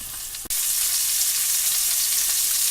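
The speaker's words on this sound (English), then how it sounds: "We're just searing." Pork chops sear in a pan for Southern-style smothered pork chops, giving a loud, steady, close sizzle that starts abruptly after a brief thump and holds on alone.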